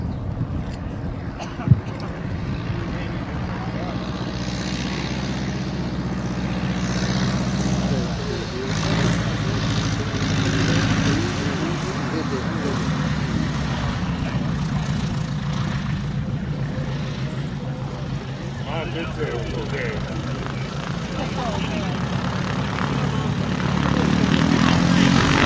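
A Super Cub airplane drones steadily on approach during a short field contest at a fly-in, its propeller engine hum continuous and building slightly toward the end, with an announcer talking over it throughout.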